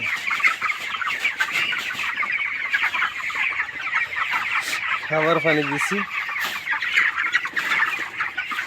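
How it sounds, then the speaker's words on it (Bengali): 24-day-old broiler chickens cluck and chirp constantly throughout a farm shed, a busy flock murmur with a brief low grunt-like burst midway and a short spoken phrase over it. "24 দিনের ব্রয়লার মুরগি দেখাচ্ছি।"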